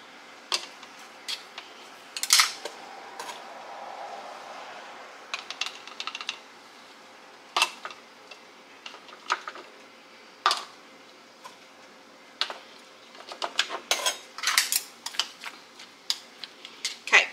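Tomatoes being packed down into glass jars give scattered light clinks, taps and soft knocks at an irregular pace, close and quiet, with no voices.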